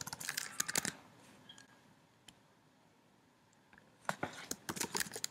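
A computer keyboard is typed on in two short, rapid bursts of faint clicking, separated by a few seconds of near-quiet room tone.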